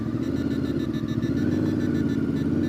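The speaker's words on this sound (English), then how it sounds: "Motorcycle riders." Motorcycles ride along the Blue Ridge Parkway, heard as a steady close engine rumble with a low, throbbing drone and no voices.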